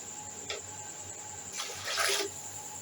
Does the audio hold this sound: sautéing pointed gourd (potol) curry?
no